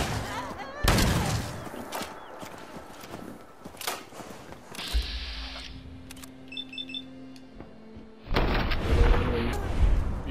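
Gunfire in Fallout 4 during a robbery standoff: a burst of sharp shots and booming impacts up front, then quieter stretches with electronic beeps and a low hum before another loud blast near the end.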